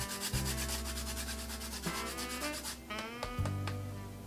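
Lime zest is grated with close, rhythmic rasping strokes, a dry scraping rub repeated steadily with short pauses, no talking over it.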